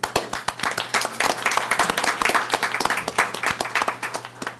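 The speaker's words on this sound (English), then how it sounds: "So I want to really ask everyone to give a really warm round of applause to Jim for his outstanding service." A room at a committee meeting breaks into warm applause, many hands clapping with crisp, distinct individual claps in a lively, uneven rhythm, with a low steady hum beneath.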